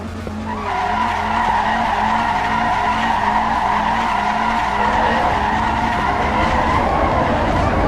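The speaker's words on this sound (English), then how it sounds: "This car's gonna be fun." A race car in the video game Assetto Corsa EVO holds a long, loud tire skid over a steady droning engine, continuous and close throughout.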